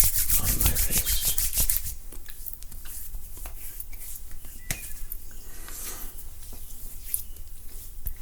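Shaving cream is spread over a face by hand before a double-edge razor shave, heard as close, soft rubbing and smearing strokes in a quiet room, louder at first and then settling into lighter brushing.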